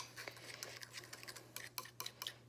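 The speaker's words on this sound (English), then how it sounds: "And just sort of mix it up so you get all the chunks out." A utensil clinks and scrapes faintly against a bowl in a quick irregular series while a mixture is stirred to break up chunks, over a low steady hum.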